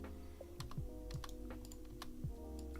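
Computer keyboard keys are pressed in about half a dozen sharp, irregular clicks, close and crisp over a steady humming tonal background, with no talk.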